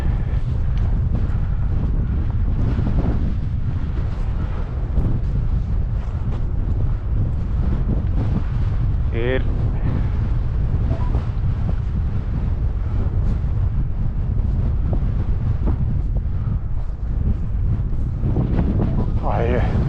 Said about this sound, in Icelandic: Það er svo hvasst að maður sér ekki út úr augum fyrir tárum.